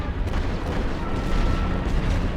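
Artillery fire from a Great War Western Front game, rolling as a continuous low rumble of overlapping booms that holds steady for a couple of seconds, with no voices.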